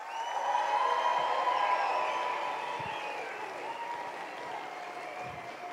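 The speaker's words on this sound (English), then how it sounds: "you deserve a round of applause and a lot of celebration" A large graduation ceremony crowd applauding steadily, with some cheering and whoops mixed in, sustained throughout and easing slightly toward the end.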